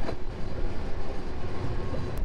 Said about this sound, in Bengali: ট্রেন একদম স্লো করে দিয়েছে